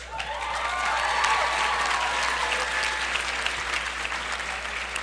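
An audience at a New College commencement ceremony bursts into sustained, dense applause that swells quickly and holds steady, filling a large hall with a bright, even wash of clapping.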